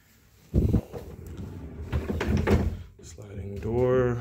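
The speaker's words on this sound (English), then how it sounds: "sliding door," A sliding door in a hotel room rolls open on its track near the end, a short scraping glide after a louder thump and rattles, with a person's voice talking over much of it.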